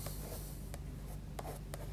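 Derwent Artbars drawn across paper to lay darker marks, giving a steady close scratchy rubbing with a few brief sharper strokes over a constant low hum.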